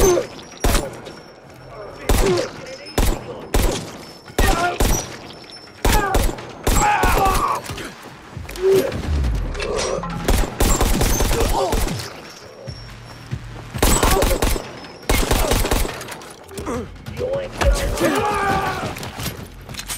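Firearms blazing in the zombie game Dying Light 2, with loud, close bursts of rapid shots and heavy volleys repeating in clusters across the stretch, broken by brief pauses and some thuds.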